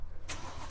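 A car engine cranks briefly and then bursts into a loud, raspy exhaust roar that holds steady, close by.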